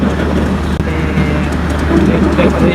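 Busy railway station in Pakistan, with trains standing at the platforms: a steady, loud wash of rail and crowd noise fills the scene without letup.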